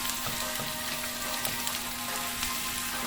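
Sausages frying in a pan of oil until brown: a loud, continuous hiss and crackle, close up, with no voices.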